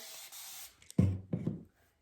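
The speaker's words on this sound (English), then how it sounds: "So I'm just going to spray this down just with some water." A spray bottle hisses once, then a few quick pumps and squirts follow close up, short and crisp.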